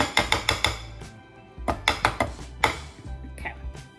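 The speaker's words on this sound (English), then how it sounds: "And then just tap the whisk onto the bowl." A metal whisk taps against a mixing bowl with bright clinking knocks, first in a quick run of five or six, then a second cluster and a few scattered taps, close and crisp in a kitchen.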